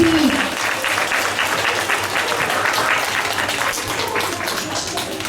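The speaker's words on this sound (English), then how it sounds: "let's give them a big round of applause" A school assembly audience of young children from class 2B claps loudly in dense, continuous applause for the Labour Day performance, filling the whole stretch.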